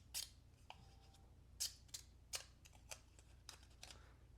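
The blade of a TRM Nerd knife cuts with a series of quiet, crisp snipping bites, spaced irregularly against a soft low hum.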